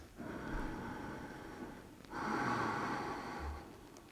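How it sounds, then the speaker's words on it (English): Slow, audible breathing during a yoga pose: a long breath, a brief pause, then another fuller exhale, close and soft, with no talking. "2 more breaths"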